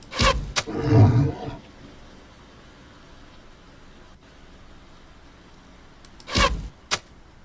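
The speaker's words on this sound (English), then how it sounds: "Growl like a lion." A lion-like creature in the Queen's Wish 2 video game lets out a loud growling roar at the start, then quiet background, then a second shorter roar and a sharp blip near the end.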